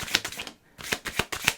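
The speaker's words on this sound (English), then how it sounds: "Let's give these a good shuffle." Tarot cards are riffled and shuffled in several quick, crisp papery bursts with a brief pause in the middle, close and fairly clear, with no voice.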